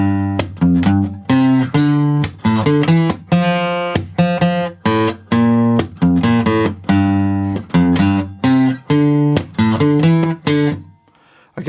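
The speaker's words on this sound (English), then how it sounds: "I've written out the bass part on guitar" The bass part of a song played on guitar, a steady run of short plucked notes in a bouncing rhythm, close and clear with no talking.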